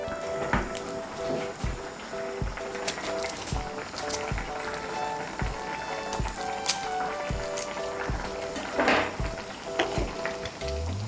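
Spatula stirring garam masala powder and green chilies into an egg and gram flour curry in a pan, giving repeated scraping strokes over a steady sizzle, close and moderately loud with no talk.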